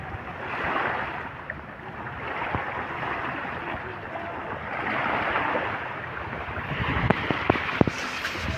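Waves wash steadily at the seashore where a pet goes to swim, a continuous broad roar with swelling surges and wind buffeting the microphone, a few sharp knocks near the end.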